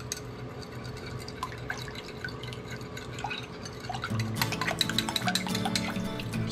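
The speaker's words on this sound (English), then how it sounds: "Just want to stir that up real good." A spoon stirs a sauce mixture of cornstarch and liquid into vegetables in a pan, with soft scraping and light clinks against the metal that grow busier and louder toward the end, no talking.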